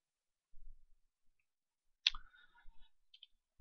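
Keyboard shortcut keys pressed in a quiet room, a few crisp, faint clicks in two small groups with a soft knock or two.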